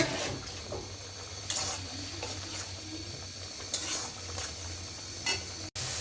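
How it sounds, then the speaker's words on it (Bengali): Spice paste frying and sizzling in a pan for a papaya curry, with a steady low hiss and a few louder bursts of crackle and stirring, close by with no talking. "মশলাটা কষানো হইল এবার পেঁপে দিয়ে দেব"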